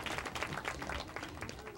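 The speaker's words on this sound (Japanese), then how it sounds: "それでは6選手にまずは大きな拍手お送りください" Spectators applaud the young boat racers being introduced at a G1 boat racing event at Biwako. The clapping is faint and scattered, a soft, continuous patter heard at a distance.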